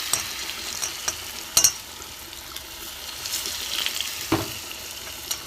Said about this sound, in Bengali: আবার আমি বেসনে চুবিয়ে এই কটা ভেজে নেব